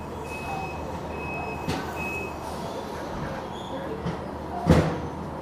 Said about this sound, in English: Now this big truck comes